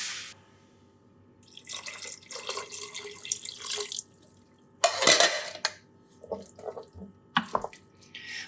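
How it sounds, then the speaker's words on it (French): Water is poured into food in a Cookeo multicooker, heard as intermittent splashing pours and trickles with clinks of a pot and utensils, close by and otherwise quiet. "je vais rajouter de l'eau pour que ça soit un petit peu plus mouillé"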